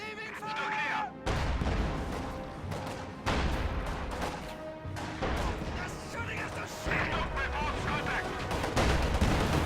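Bursts of gunfire and booming artillery in a World War II strategy video game, sharp repeated shots and explosions over ongoing battle noise, with a game voice heard briefly.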